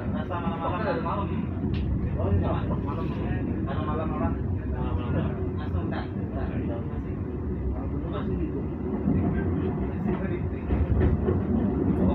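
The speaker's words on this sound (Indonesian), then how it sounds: "Kereta api Cibino memasuki jalur 1 stasiun Pauh 5." A train rumbles and clatters steadily on the rails as it pulls into track 1 at Pauh Lima station in West Sumatra, with a voice speaking over the continuous noise.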